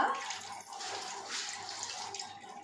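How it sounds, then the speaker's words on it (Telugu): Water pours off from a cooking pot into a sink, a continuous close splashing trickle that stays fairly even for a few seconds with no talking. "పక్కకు తీసుకుందాం కొద్దిగా నీళ్ళన్నీ."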